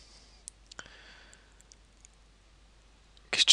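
A computer mouse gives a few sparse, quiet clicks spaced through a near-silent room, ending with a brief louder burst of clicks.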